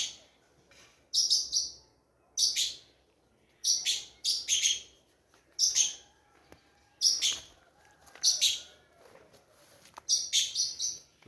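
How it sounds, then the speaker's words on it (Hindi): Birds chirp in short repeated bursts of high, bright twittering on a spring morning in a village, fairly close and clear, separated by brief quiet gaps, with no voices. "परिंदों की चहचहाट,"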